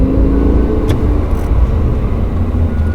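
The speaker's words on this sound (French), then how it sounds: "On accélère de plus en plus fort" A Lamborghini Huracán on a race circuit roars and rumbles loudly and continuously, pulling hard as it accelerates, filling the whole stretch without any voices.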